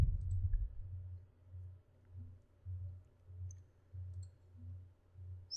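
A computer mouse double-clicked to open a saved movie file. Faint, sharp little clicks come in quick pairs over a low, pulsing background hum in a quiet room.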